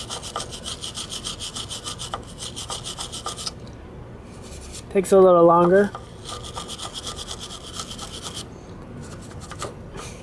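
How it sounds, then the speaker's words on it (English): Repeated scratchy strokes of a wire brush scrubbing scooter parts in a steady rhythm, broken by a short, louder whirring burst midway; a voice briefly speaks. "Get the wire brush into the areas where the drill won't reach."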